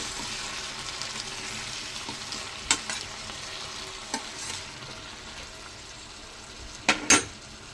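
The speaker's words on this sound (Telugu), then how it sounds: "ఉప్పు వేసుకుంటే టమాటాలో ఒకసారి తిప్పుకొని మూత పెట్టుకుందాం మళ్ళీ మనము" Salted tomatoes cooking in a pan for a beans and tomato curry, turned with a spoon: a quiet, continuous frying hiss broken by a few sharp clinks and scrapes of the utensil against the pan, close by.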